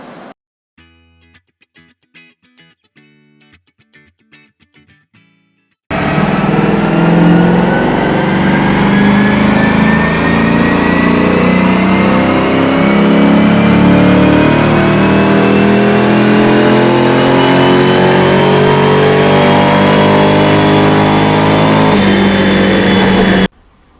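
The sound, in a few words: LS3 V8 in swapped Mazda RX-8 revving on a dyno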